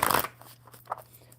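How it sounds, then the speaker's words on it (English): A deck of playing cards is shuffled in one quick riffle burst up close, followed by a few faint soft clicks and rustles as the cards settle. "One more good shuffle."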